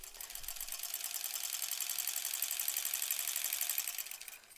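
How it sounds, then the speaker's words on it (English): A sewing machine stitching quilt block pieces runs in one steady, even whir for several seconds, then winds down at the end, close and fairly quiet with no talking. "I'm going to stay here and sew them all on"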